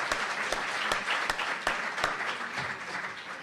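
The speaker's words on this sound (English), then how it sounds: "please give another round of applause to Reverend Sharpton" Continuous applause from a crowd, with sharp individual claps standing out over a dense wash of clapping for several seconds.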